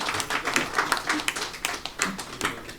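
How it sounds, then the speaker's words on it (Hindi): Audience applause welcoming participants at an Ambedkarite women's forum event for Savitribai Jayanti, a steady patter of many hands clapping at moderate level, irregular claps rising and falling throughout without voices. "हम उनका जो है वो तालियों से स्वागत करें।"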